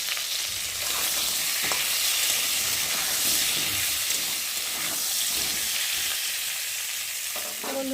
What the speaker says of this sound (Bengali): যাতে পটলটা তাড়াতাড়ি ভাজা হয় আর ভেজেও যাবে